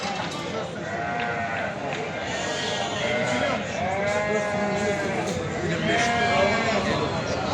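Ewes with lambs at a crowded sheep market in Beylagan, bleating repeatedly in wavering overlapping calls over constant crowd chatter and voices nearby.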